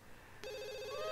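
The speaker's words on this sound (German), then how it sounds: "Kann mal einer ans Telefon gehen?" A telephone rings in The Sims 2, a single bright electronic ring tone that starts abruptly and holds steady, fairly faint and alone.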